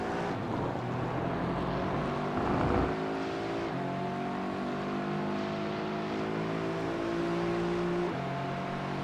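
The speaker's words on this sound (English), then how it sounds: "The Aston Martin chasing down the Porsche." GT4 race cars in a sim racing game at Spa-Francorchamps, an Aston Martin chasing a Porsche, engines droning steadily with rising and shifting tones as the cars accelerate through gears.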